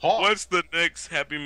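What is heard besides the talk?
None of the usual background noises is heard.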